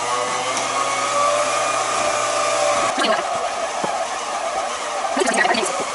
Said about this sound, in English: So I'm just gonna put away my mixer.